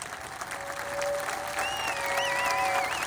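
A crowd at a direct-selling business seminar claps together in a dense, steady burst of applause that swells slightly, with a few faint whistles over it.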